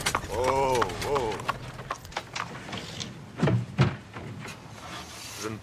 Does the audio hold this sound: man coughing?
no